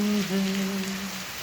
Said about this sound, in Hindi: अब ये बारिश चलती रहनी है